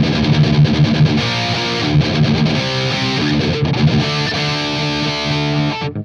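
Electric guitar played through a Sonicake Black Hammer multi-effects unit set to heavy metal distortion, with the middle control prominent, delivering loud chugging riffs and sustained chords with choppy palm-muted bursts, no voice.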